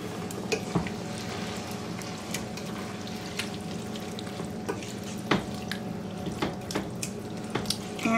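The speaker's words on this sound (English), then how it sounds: "let me rinse this jar out" Tap water runs steadily into a kitchen sink while a glass tomato sauce jar is rinsed out, with scattered clinks and knocks of the jar against the basin over constant flow.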